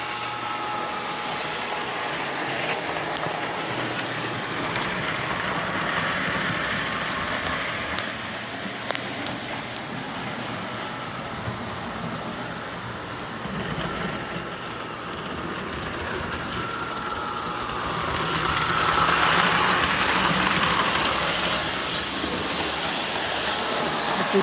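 A 1955 Lionel postwar 2235W outfit with a 2338 Milwaukee Road GP7 locomotive runs on track with a steady, faint mechanical hum and rumble that swells slightly later on.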